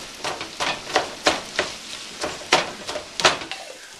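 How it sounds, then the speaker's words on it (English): Thinly sliced onion sizzling as it browns in a pan for turkey spaghetti sauce, with a steady frying hiss and repeated scraping strokes from stirring, close and fairly loud. "We'll add that so we can start browning the onion."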